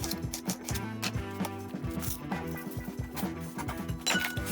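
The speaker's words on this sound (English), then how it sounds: "we'll chop the rest of these and then we'll be done with our vegetables" Knife chopping vegetables on a cutting board while cooking a Spanish-style omelette, a run of quick, close, fairly loud knocks and clinks against steady kitchen background noise.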